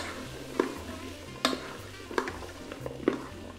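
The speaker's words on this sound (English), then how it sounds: "Now mix this up with the butter." A spoon scrapes and knocks through sliced celery and carrots in melted butter in a soup pot, four distinct clanks against the metal over a low, faint sizzle.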